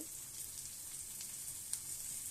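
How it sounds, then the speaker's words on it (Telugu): Ginger-garlic paste frying in a pan gives a steady, soft sizzle throughout, with a brief sharper crackle near the end and no talking. "చూడండి, లైట్గా వేగిని."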